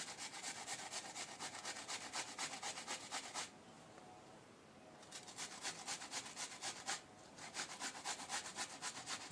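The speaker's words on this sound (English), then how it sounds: "Grate a garlic and onion." Onion and garlic grated by hand against a grater for a tuna burger, quick rhythmic scraping strokes in two bursts with a short pause between, close and fairly loud, no talking.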